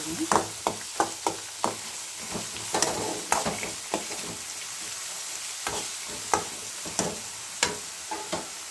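Onion, green chilli and tomato frying for upma in a pan, a steady sizzle under repeated sharp spatula scrapes and taps in an irregular rhythm, close and clear.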